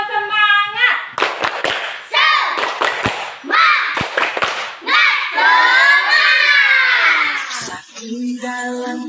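Fourth-grade primary school children clap in a quick rhythmic spirit-clapping pattern and shout along in a chant, loud and close, ending in sustained cheering voices.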